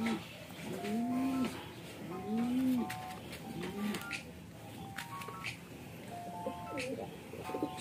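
A racing pigeon at a loft visit gives a few rising-falling coos in a repeating rhythm, close by, with people talking around it.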